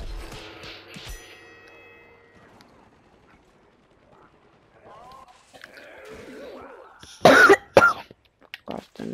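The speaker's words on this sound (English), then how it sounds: "I have a really bad cough." Several sharp, loud coughs burst out near the end, following a stretch of quiet mechanical clicks and faint background sounds from a Plants vs Zombies Garden Warfare 2 game.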